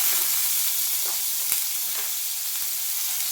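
Onion frying in hot oil after mustard seeds, a dense, even sizzle with a few faint stirring clicks, close and continuous.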